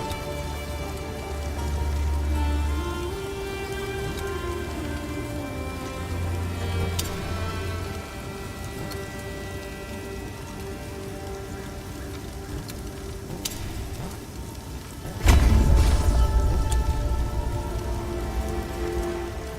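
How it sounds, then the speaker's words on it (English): Rain falls steadily on a surface with a continuous hiss of drops, joined by a low hum and a louder swell of rumbling noise near the end; no talk. "It's been raining off and on since."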